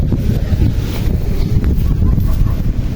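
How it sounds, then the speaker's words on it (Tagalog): Gusty wind buffets the microphone outdoors on a rainy fishing trip by the water, a low rumbling roar that surges and dips throughout, with no clear speech. "Nah, hangin, no?"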